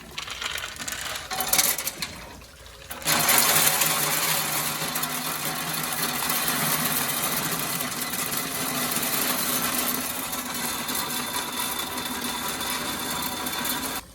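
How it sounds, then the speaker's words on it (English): Charcoal wood pellets poured from a 20-pound bag into the hopper of a Camp Chef pellet smoker, a loud steady rattling cascade of hard pellets that continues for several seconds after a brief pause. "She's dumping her pellets right into the hopper."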